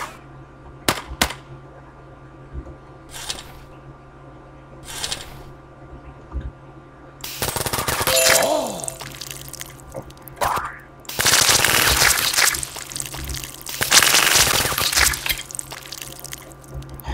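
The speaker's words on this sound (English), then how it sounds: "Hey, a machine gun equipped." Machine gun fire in the video game Platformines: a few short, sharp bursts early, then longer stretches of dense, rattling automatic fire at moderate loudness, with no speech over them.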